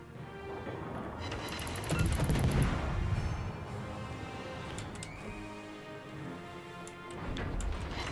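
Naval gunfire from a warship's guns in a video game, with dense, rumbling volleys that swell into a loud burst near the start, then continue as steadier, slightly quieter firing with a few sharper reports toward the end.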